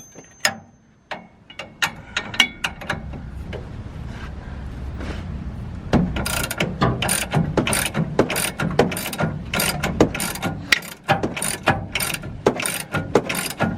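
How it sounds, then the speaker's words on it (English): A ratchet works loose the bolt on an air ride four-link suspension bushing, its rapid clicking coming in bursts that grow denser and louder partway through, close up with no talking. "Yep, ratchet."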